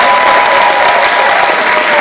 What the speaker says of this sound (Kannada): ನಮ್ಮ ಎಲ್ಲ ಯಂಗ್ಸ್ಟರ್ಸ್ ಗಳೇ ಇನ್ನೊಂದು ಜೋರ ಚಪ್ಪಾಳೆ ಬನ್ನಿ